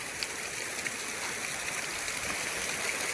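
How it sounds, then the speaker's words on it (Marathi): A small stream runs near a hill fort Shiva temple, giving off a steady close-up rush and gurgle of flowing water that stays constant and moderately loud with no voices. "इथे आता एक छोटासा झरा आहे"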